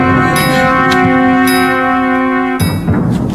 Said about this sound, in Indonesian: Gong!